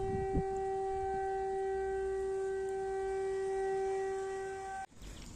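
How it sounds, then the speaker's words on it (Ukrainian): An air raid siren wails in a long, steady tone at a distance, heard in a park in Kryvyi Rih, Ukraine, then cuts off abruptly near the end. "Ось такі у нас реалії життя гуляти під звуки сирен."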